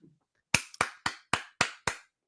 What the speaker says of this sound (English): The self round of applause.